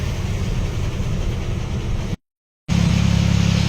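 Loaded trucks from Bangladesh on the road, a loud, steady rumble of heavy engines and traffic that cuts out briefly, then returns just as strong.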